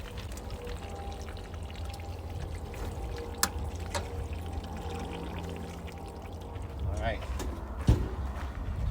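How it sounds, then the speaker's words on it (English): Water from a garden hose fitted with an RV and marine inline water filter runs out onto the ground in a steady, continuous pour, with a few faint clicks and knocks near the end. "I'm going to go back and turn the water on. And I'm just going to let it run out on the ground."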